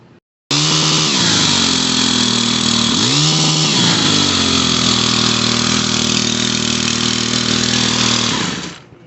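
Stihl HT101 pole saw's small two-stroke engine idling a little high after a carburetor and fuel line repair, a steady close buzzing drone with two brief dips in pitch, then cutting off at the end.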